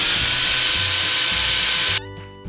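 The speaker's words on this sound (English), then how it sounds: "So here I have my drill at an angle and I'm just gonna work here until I get a dent" A power drill whines steadily and loudly as its bit grinds at an angle into a plant pot, cutting off abruptly after about two seconds into near silence.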